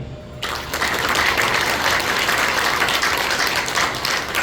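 An audience at a Hindu religious gathering breaks into steady, loud applause honouring the Shankaracharya, a dense wash of clapping that holds for several seconds.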